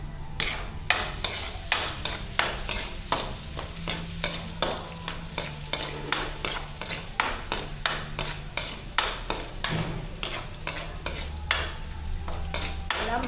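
Cubes of pork shoulder brown in a pan for kaldereta, frying with a steady sizzle while a utensil scrapes and stirs in quick, regular strokes, close and continuous.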